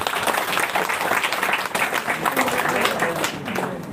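An indoor audience claps steadily for about four seconds, with a dense, even patter of many hands close by and a few voices mixed in.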